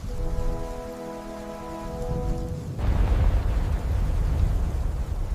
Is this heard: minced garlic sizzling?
no